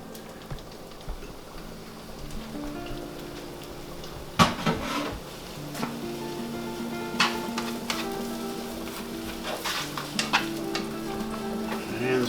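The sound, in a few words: chopped celery and onion sauteing in a hot pan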